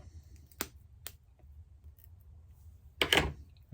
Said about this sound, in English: The other two pair, they can actually be cut off.